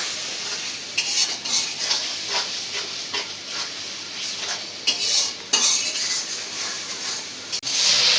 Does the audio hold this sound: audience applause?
no